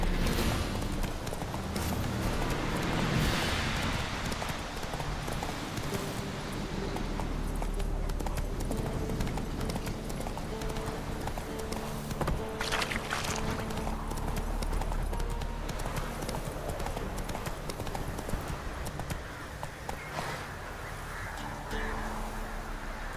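Steady horse hooves clip-clopping through most of the stretch in The Witcher 3, a rhythmic trot carried over a game soundscape with occasional faint bird calls in the background.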